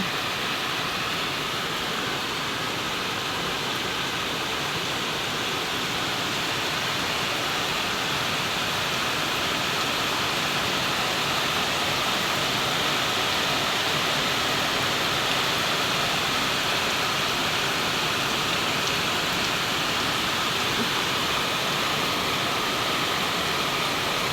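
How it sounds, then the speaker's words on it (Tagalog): Dense, steady rush of heavy rain pouring down on flooded rice paddies without pause, a broad hissing roar that stays loud and even from start to finish. "napakalakas po ng ulan ngayon"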